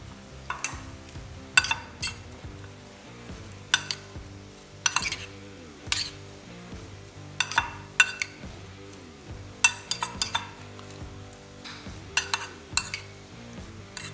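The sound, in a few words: mixing coleslaw with dressing in bowl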